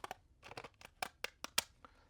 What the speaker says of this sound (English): And I'm going to use these same scissors.